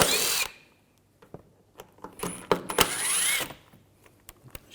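A power tool with a T30 socket backs screws out of a Volkswagen Jetta, with a loud whirring burst, a pause, clicks and ratcheting, then a second longer whir close by.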